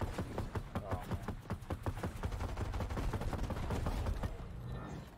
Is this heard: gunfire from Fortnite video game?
yes